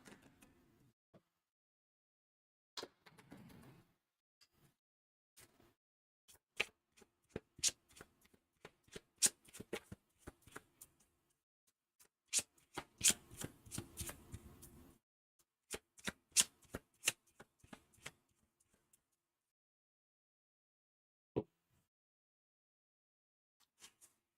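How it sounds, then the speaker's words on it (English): Loot cards for the board game Too Many Bones are shuffled close by and quietly, in short bursts of riffling and tapping separated by silent pauses, with no talking. "Oh no, I have to shuffle the loots too."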